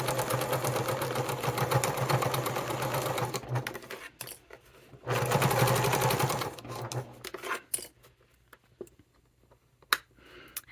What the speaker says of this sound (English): I'm going to sew all the way till I get to this dot where this corner seam ends.